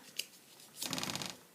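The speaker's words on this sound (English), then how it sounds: "grab this piece of paper and you fold it and fold it, fold it" A sheet of paper is folded over and over, giving one brief tap followed by a short, fluttering crinkle up close, faint and quick.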